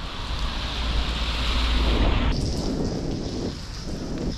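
Wind gusts roar during a heavy rain storm in Sidi Bel Abbes, Algeria, making a loud, broad rushing wash that shifts in tone partway through, with no voices.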